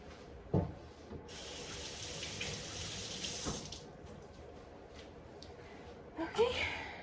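Tap water runs into a kitchen sink as food for a Zuppa Toscana with tortellini is rinsed under it, a steady close splashing stream with a few knocks and clatters, and brief voice sounds.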